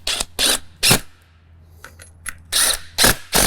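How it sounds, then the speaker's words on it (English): Bolts being tightened by hand on a comfort armrest kit fitted to a John Deere Z9 zero-turn mower seat: a series of sharp, close scraping and clicking bursts, evenly spaced, separated by brief quieter gaps, with no talking. "We just need to tighten those up."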